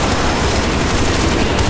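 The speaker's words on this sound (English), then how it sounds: "That was a big explosion." A large explosion in the video game Crysis 3 involving a fuel tank, a loud, dense roar of blast and rapid crackling that fills the whole short moment.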